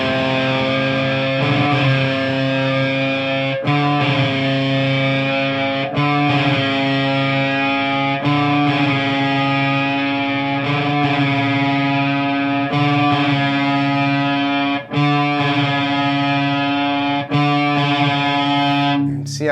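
An electric guitar is tuned with distorted tone as a chord or note is struck repeatedly, each ringing out at intervals of about two seconds while the pitch shifts slightly, loud and close.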